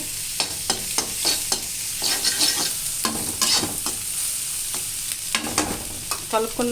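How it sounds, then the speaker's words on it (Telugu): A cooking mixture is stirred in a pan, with a steady run of spoon scrapes and clacks over a soft sizzle. No one talks. "బాగా కలుపుకొని, ఈ మిశ్రమాన్ని బాగా కలుపుకొని"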